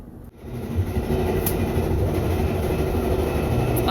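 Loud, continuous rumble of a moving train, with rattling wheels and carriage noise filling the space and no voices.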